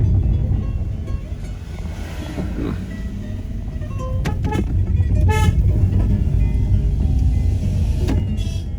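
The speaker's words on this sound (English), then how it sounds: "they wait until they see you, then they honk" Car horns honk along a road in Guajataca State Forest, Puerto Rico, short toots sounding repeatedly over a steady rumble of passing traffic and engine noise, with no talking.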